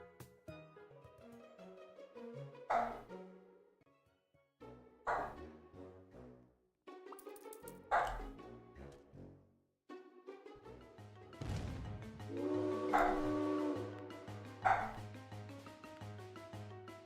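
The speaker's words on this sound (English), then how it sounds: "Seems my dog has found something else to bark at." A dog barks repeatedly in short bursts from a home while a game plays in the background, with several separate yaps and bow-wows spread across the stretch, fairly loud over tonal music.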